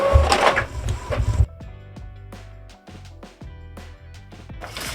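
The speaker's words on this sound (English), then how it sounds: "now it's printing over here" Epson EcoTank 2803 inkjet printer running a test page: a loud burst of feed noise first, then a steady run of short mechanical clicks and whirring strokes as the print head travels back and forth.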